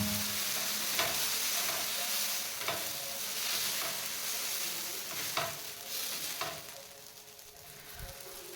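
Masala dosa fries on an oiled griddle with a continuous close sizzle, broken by a few soft scraping and stirring knocks, and nobody speaks over it.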